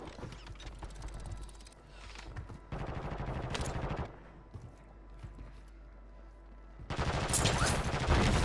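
Video game gunfire with bursts of sniper and automatic shots, loud and close, coming in several dense clusters separated by brief quieter gaps.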